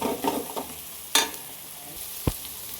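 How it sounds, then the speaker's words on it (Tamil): Masala and chili powder fry and sizzle in oil while being stirred by hand for a traditional Indian paruppu urundai dish, a steady close hiss with a couple of sharp scraping clinks of the spoon against the pan. "நம்ம இப்படி வதக்கிறப்போ நல்லா பாருங்கள் எப்படி எண்ணெய் பிரிஞ்சு வருதுன்னு"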